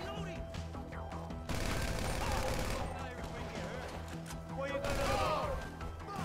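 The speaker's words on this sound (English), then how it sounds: "I shot with a shotgun." Shotgun blasts and heavy gunfire in GTA 5 come in loud, dense bursts, mixed with game effects and excited voices.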